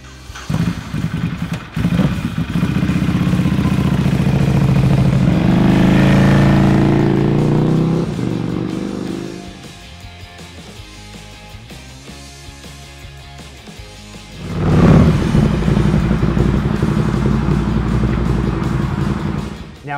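A Ducati Scrambler motorcycle engine roars loudly as it rides away, fades to quieter music, then surges back with renewed engine noise toward the end.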